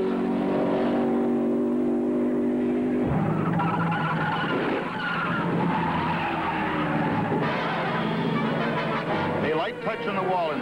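A race car at the 1966 Indianapolis 500 with A.J. Foyt at the wheel: a loud, sustained engine roar and tire skid build into a jolting crash against the wall, all under a commentator's talking voice.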